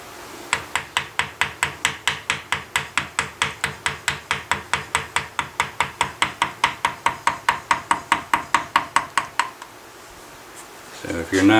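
Chisel cutting into wood during gunsmithing work, a long run of evenly spaced sharp taps and strikes, about four per second, close and clear, stopping near the end before a short rustle.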